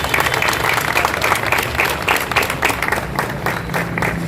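Sustained audience applause at an LPG walkathon public-awareness event in Aurangabad, dense steady clapping from a crowd lasting throughout with no break.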